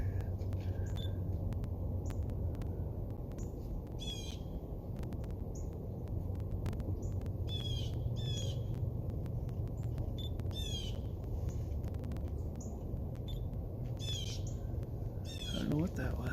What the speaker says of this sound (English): Oh, waxwings. That's probably what those are.